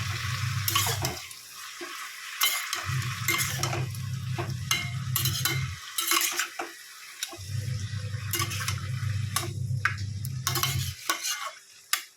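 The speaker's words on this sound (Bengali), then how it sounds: "নুন দিয়ে একটু নেড়ে দিয়ে এবার চাপা দিয়ে দেবো।" Spinach with salt and turmeric is stirred in a pan, giving three long bursts of low scraping and rustling with bright clinks and sizzle between them.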